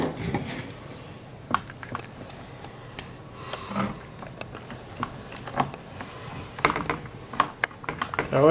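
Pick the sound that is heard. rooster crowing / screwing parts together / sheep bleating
screwing parts together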